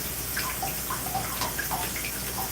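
Water running steadily from a tap as it warms up, a constant rushing hiss with faint splashes and drips, close and alone.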